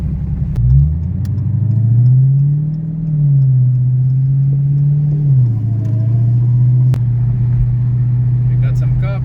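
A Dodge Challenger Hellcat on drag radials, switched into sport mode, gives a deep, close, loud engine rumble that rises quickly, then holds a steady throaty drone.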